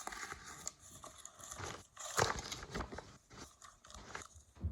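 A crumpled sheet of paper being opened back up and flattened, giving close, quiet crinkling and crackling rustles that rise to one sharper crunch midway, with no talking.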